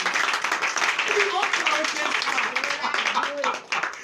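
A Sunday worship congregation in Comè, Benin, claps in acclamation, bright rapid claps layered with shouts and sung or spoken voices, moderately loud and busy.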